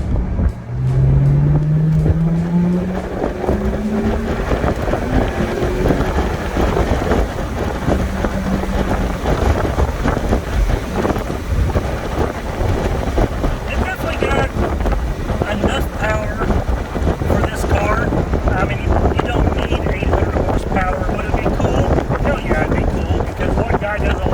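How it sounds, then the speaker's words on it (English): A 2006 Chrysler Crossfire with a 3.2-liter 215-horsepower engine accelerates hard from a 20 mph roll, its engine note climbing steadily beneath constant heavy wind rush around the car. "I'm going to do about a 20 mile an hour roll and then I'll get on it."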